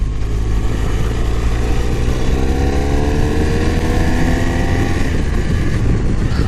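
Motorcycle riding at speed: a steady, loud engine drone with wind roar and rising and falling engine pitch as gears change, with no talking.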